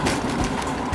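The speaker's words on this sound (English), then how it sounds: "I am inside the truck driving and there's a lot of noise on the road." Steady road noise fills the cab of a moving truck, a dense continuous rumble and hiss with no clear breaks and no talking.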